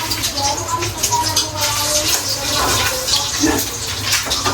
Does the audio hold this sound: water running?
yes